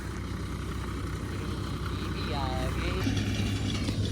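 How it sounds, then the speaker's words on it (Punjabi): A tractor engine runs under heavy load, a steady low rumble throughout that swells louder in the second half, with people talking over it. "ਟਰੈਕਟਰ ਤੇ ਪੂਰਾ ਜ਼ੋਰ ਲਵਾ ਰੱਖਿਆ ਬੜੀ ਕੈਂਡ ਬਾਜ ਕੱਢਦਾ ਟਰੈਕਟਰ"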